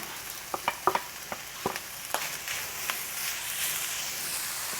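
White parts of green onion sizzling in hot oil in a pan for Taiwanese braised pork, a steady moderate hiss with scattered crackles and a few stirring clicks, no talking.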